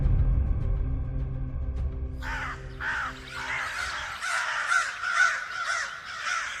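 Several crows caw from a tree, harsh repeated calls overlapping after a low droning background fades, moderately close and loud with no talking.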